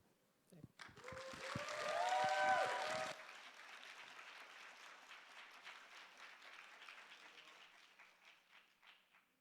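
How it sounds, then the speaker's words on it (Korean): A church youth-service congregation breaks into loud, dense applause welcoming a returning preacher to the pulpit, swelling briefly and then settling into a softer, steady clapping that tapers off over several seconds. "올라오실 때 저희 큰 박수 부탁드리면 좋겠습니다."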